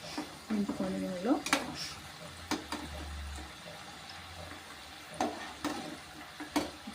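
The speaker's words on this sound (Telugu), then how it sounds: "చూడండి, ఇలా కాల్చుకోండి, బాగా నింపుకోండి నూనెలో." Kudumulu, Telugu rice-flour dumplings, frying in hot oil, a soft continuous sizzle broken by a few sharp clinks and scrapes of a spoon, with a brief low hum and a little background voice.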